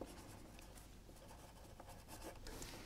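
Pen scratching across paper in a quiet school setting, a steady soft scribbling with brief strokes and pauses, close and faint, with no talking.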